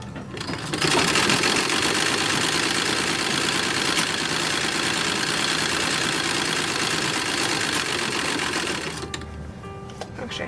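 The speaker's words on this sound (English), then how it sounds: "We're going to sew the binding on from the back" A sewing machine stitches bias binding onto a 1910s–1920s style toddler romper, running in one steady, continuous whir from start to nearly the end, close and loud, before it slows and stops.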